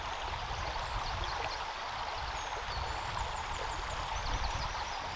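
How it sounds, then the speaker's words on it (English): Fast-flowing stream of the River Severn a few miles below its source in Hafren Forest, a steady broadband rush of water with faint high chirps over it, unbroken and close, with no voices. "here, it's nothing little more than a stream, although surprisingly it is still quite fast flowing"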